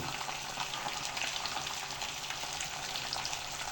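Cumin, garlic and salt frying in a pan, a steady dense sizzle that holds loud and unbroken from start to finish with no voices over it.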